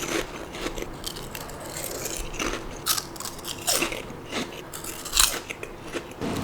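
Crunchy shrimp-flavored snack chips being bitten and chewed up close, with a steady run of sharp, brittle crunches and a few louder bites, no talking.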